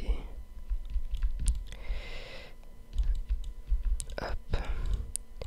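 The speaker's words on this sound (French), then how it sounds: "on sent moins du coup le tambourinage sur le clavier" Soft, steady typing on a computer keyboard sits on a desk near a microphone during a quiet gaming session. Dense light key clicks come in irregular bursts, with faint background noise and brief softer sounds in between.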